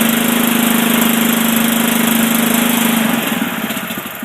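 A Billy Goat power rake dethatcher's small engine idles steadily and loud at close range, its even hum holding for about three seconds before slowing and roughening as it settles down.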